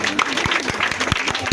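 Thin, scattered applause from a small school-ceremony audience honouring CE2 pupils in Brazzaville, with a few sharper claps standing out and voices murmuring underneath.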